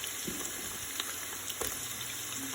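Large onion slices frying in a hot pan, a soft continuous sizzle with a few small crackles and pops, steady throughout and free of speech.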